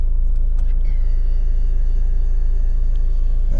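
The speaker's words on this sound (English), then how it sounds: "Press a button there, got your electric folding mirrors," Electric folding mirrors on a Honda car whirring as they motor into position, a thin steady electric motor whine over a strong low idle rumble, ending with a soft stop.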